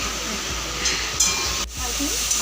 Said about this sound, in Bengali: চাটনি বানাচ্ছে